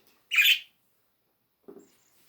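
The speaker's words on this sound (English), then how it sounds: "Talking to the birdies outside." A bird outdoors gives a sharp squawking call, then after a pause a shorter, lower chirp follows, both brief and fairly clear against near silence.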